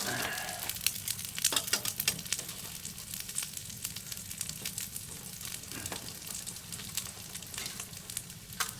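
Hash browns fry in a pan at a sub-zero winter hot-tent campsite, with a steady, fairly faint crackling sizzle and scattered sharp pops running throughout.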